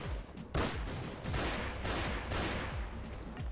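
Rapid gunfire in the video game Madness Project Nexus, a dense run of loud shots cracking back to back with no pause.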